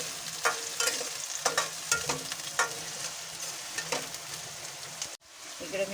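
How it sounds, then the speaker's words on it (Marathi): Chopped onion fries in a pan with a steady, close sizzle, broken by repeated scraping and stirring strokes, until a brief drop near the end before the sizzle resumes. "आता कांदा आपल्याला ब्राऊन होईपर्यंत भाजायचा"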